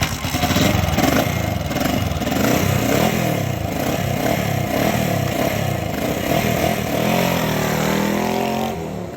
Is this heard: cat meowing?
no